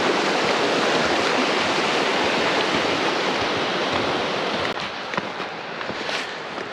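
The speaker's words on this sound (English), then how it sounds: "I can hear and I can actually see the waterfall now." Waterfall on a North Georgia hiking trail, a steady broadband rush of falling water close by, with a few faint footsteps or small knocks toward the end.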